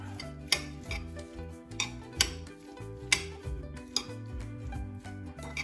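Hand-mixing guacamole with salt and cilantro in a bowl: a steady run of soft squishing and light knocks against the bowl, about two per second, close and fairly quiet with no talk.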